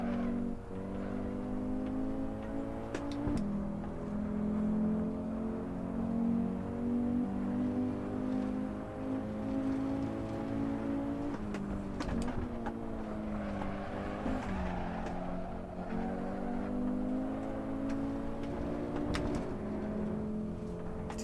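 A heavy 1980s LMP1 prototype race car in Assetto Corsa drones at steady high engine revs, its strong harmonics dipping briefly around three and twelve seconds as it shifts gears and brakes, loud and continuous with no talk.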